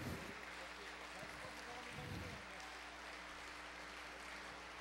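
A crowd at a 2010 Kilikia Art Studio show keeps up a sustained wash of clapping, and a voice briefly rises over the applause partway through.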